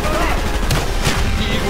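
Gunfire in the video game Call of Duty Black Ops, a dense continuous rattle of shots and explosions filling the whole moment, loud and busy without clear pauses.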